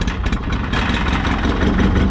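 A 1991 John Deere 318 garden tractor engine catching and running on choke, a loud steady rumbling idle with slight unevenness, close by and without talk.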